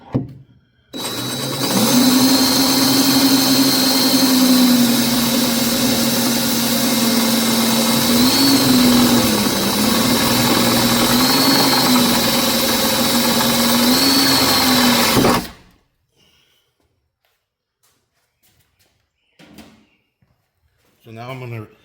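Power drill enlarging a hole for a rivet nut while fitting hood struts on a 2018+ Mustang; one loud, close, sustained whine lasting about fourteen seconds, then stopping, followed by quiet with faint handling noises.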